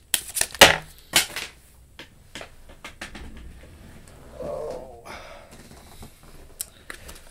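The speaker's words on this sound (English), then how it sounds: "Too many cards. Let's try shuffling again." Kipper fortune-telling cards shuffled by hand in several quick riffling bursts, with sharp close slaps and rustles between quieter handling noises.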